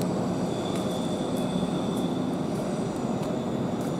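A Class 387 Heathrow Express train pulls out of London Paddington, a steady broadband rumble and hum of the departing electric unit filling the station, with no talk.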